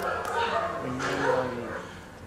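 Stray dogs in southern Italy barking from a played recording, several overlapping barks and yips heard at a distance beneath steady speech in a conference hall.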